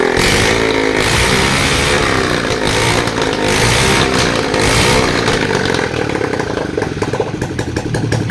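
A loud Bajaj Boxer 150 motorcycle engine running with no exhaust pipe, revived after five years unused, runs close by, its raw buzzing roar rising and falling slightly as the revs shift.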